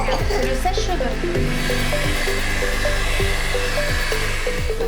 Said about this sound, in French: C'est le sèche-cheveux.